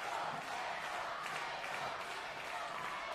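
A jam-packed crowd at a Burning River Championship Wrestling main event applauds on its feet, a steady dense wash of clapping and crowd noise that holds throughout at a fairly even level.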